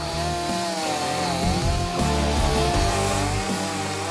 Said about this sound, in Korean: 이렇게 V자로 톱질하면 좀 더 안전하게 나무를 자를 수 있다고 합니다